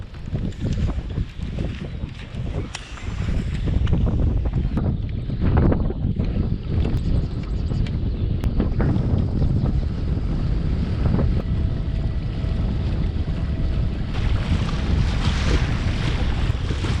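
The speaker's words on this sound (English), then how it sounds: "Ooh, that wind though." Strong wind roars steadily across open water during kayak fishing in the California Delta, buffeting the microphone with loud gusty rumble and faint lapping water throughout.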